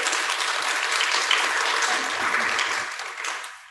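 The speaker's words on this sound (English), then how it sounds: "Why don't you clap?" Applause from a Sunday worship congregation, a dense and fairly loud ripple of many hands clapping that thins out near the end.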